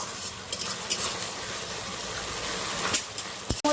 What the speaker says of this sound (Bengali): এর মধ্যে আমি সামান্য একটু জল দিয়ে খুব ভালোভাবে কষিয়ে নেব